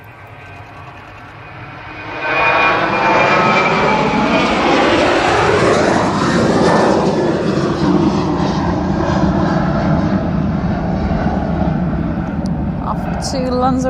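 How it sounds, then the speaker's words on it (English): A propeller plane's engine swells in after a quiet start, droning loudly as it passes close by, its pitch shifting as it flies over. "Then we have a prop."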